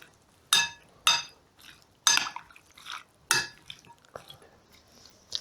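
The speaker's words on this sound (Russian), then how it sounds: "И теперь все тщательно перемешиваем." A utensil scrapes and clinks against a cauldron (kazan) while kazan kebab is stirred, with about five sharp metallic strokes spaced roughly a second apart and softer scraping between them, close and clear.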